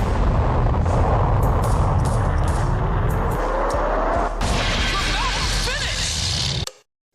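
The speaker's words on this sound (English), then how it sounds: "just nukes her, him, and the dude, exploding the entire city" A huge anime explosion engulfs an entire city, a loud sustained roaring blast with rumbling low end and crackling debris that swells midway, then cuts off abruptly at the end.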